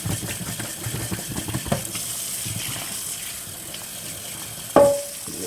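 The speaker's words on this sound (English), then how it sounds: "Now it's time to rinse it clean." Water rinses a glass bong after cleaning with detergent, a steady hiss of running and splashing water that ends in a sharp clink of glass near the end.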